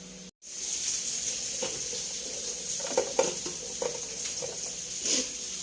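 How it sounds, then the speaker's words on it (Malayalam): Continuous hot sizzling of onions frying in ghee, bright and steady after a brief silence, with faint scraping and crackles; no talking. "ഇനി ഇതിൽ നമുക്ക് സവോള വറുത്തെടുക്കണം"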